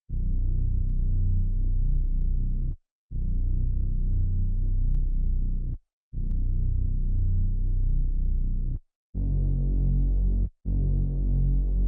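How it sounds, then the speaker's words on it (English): A deep, rumbling synth bass growls in long sustained notes with brief gaps between them, sitting very low with little brightness above. "this bass is essentially just a very low kind of rumbly growl"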